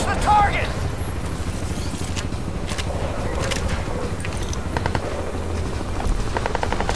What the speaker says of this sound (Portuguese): Caramba, o helicóptero já voltou já.